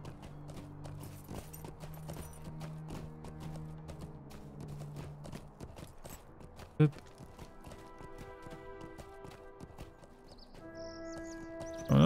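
Horse hooves clip-clopping at a steady trot in the online game Lord of the Rings Online, with a game music tone underneath, a sharp thump near the middle and a voice briefly talking.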